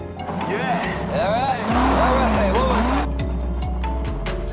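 A car engine is started and left running in a garage, first a cranking whine and then a loud, steady rumble with sweeping rev changes, under music and talk.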